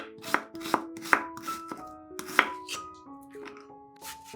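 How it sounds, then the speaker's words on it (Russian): A knife chops an onion into small cubes on a board, a series of crisp, close blade strikes at an uneven pace over light background music. "Берем одну луковицу и нарезаем ее небольшими кубиками."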